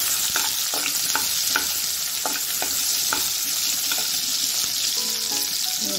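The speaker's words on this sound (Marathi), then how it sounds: "पहिला कांदा टाकून घेऊ" Onion hitting hot oil for a tempering sizzles steadily and loudly, with a few light spoon taps against the pan and no voices.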